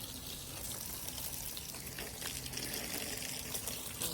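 A steady hiss of running water spraying continuously onto plants, close by, with no talking.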